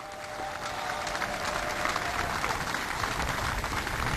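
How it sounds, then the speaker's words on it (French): Applause from a crowd at a Congolese event praising President Félix Tshisekedi for free maternity care, a dense steady clapping wash lasting several seconds without a break. "ça mérite des applaudissements pour notre très cher président"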